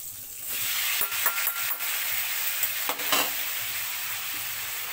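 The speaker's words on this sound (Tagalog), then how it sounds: "So mga kabili, lalagay ko na yung sliced mushroom." Sliced mushrooms sizzling steadily in a hot pan for a roast beef sauce, a close, even frying hiss broken by a few stirring scrapes, with no talk.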